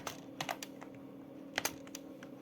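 Quiet, sparse keystrokes as Java code is typed on a computer keyboard, a few scattered clicks and short quick clusters over a low steady hum, with no talking.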